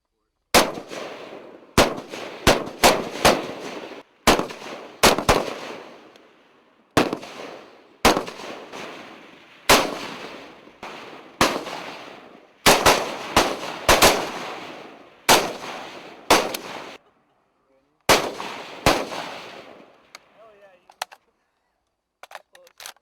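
A French military FAMAS rifle fires loud single shots and quick doubles outdoors, each crack followed by a decaying echo, spaced irregularly over about twenty seconds before tapering off.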